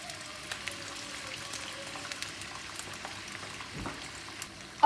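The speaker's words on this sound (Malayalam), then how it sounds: "ഇത് ഫ്രൈ ചെയ്തെടുക്കാം നമുക്ക് ട്രിപ്പായിട്ട് ഫ്രൈ ചെയ്യാം കേട്ടോ" Potato fries deep-frying in oil, giving a steady, quiet bubbling fizz throughout with small crackles scattered across it and a brief clack at the very end.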